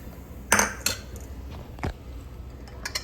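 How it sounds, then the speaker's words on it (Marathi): Tadka of chillies and coriander being mixed into curd rice, a few sharp spoon clinks against a dish followed by softer scraping, close and sparse with no voices. "आणि असा मिक्स करायचा आहे"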